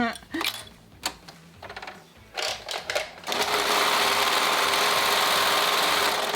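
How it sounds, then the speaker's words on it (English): Sewing machine stitching the raw edges of face binding on a gaiter, starting with a few short bursts and light handling noise, then running steadily and loudly to the end. "I'm going to sew right sides together, those raw edges"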